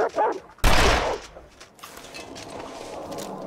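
A single loud rifle gunshot in The Long Dark, a sudden sharp crack with a broad blast that decays over about a second, preceded by brief talk and followed by a quiet outdoor ambience.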